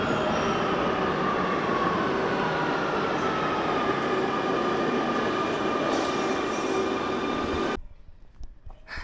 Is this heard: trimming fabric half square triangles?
no